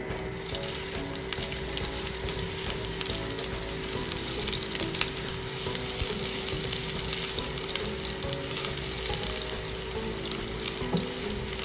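Sliced ginger fries in hot cooking oil in a pan, giving a steady, even sizzle with occasional pops and crackles. The frying runs alone, with no talking.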